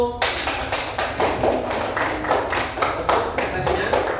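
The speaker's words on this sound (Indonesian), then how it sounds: "Kasih tepuk tangan untuk kelompok 1." An elementary classroom of students clapping for a group presentation, a run of sharp, fairly rhythmic hand claps close to the microphone lasting several seconds.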